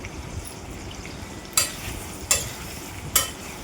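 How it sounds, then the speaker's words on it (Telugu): Garlic, green chilies, cumin, dried chilies and curry leaves sizzle steadily with dried prawns in a pan, broken by three sharp scrapes of a stirring spoon, close with no talk. "తర్వాత వెల్లుల్లి రబ్బలు, అలాగే పచ్చిమిర్చి, జీలకర్ర, ఎండుమిర్చి, కరివేపాకు వేసి ఇంకొకసారి ఫ్రై చేసుకోండి"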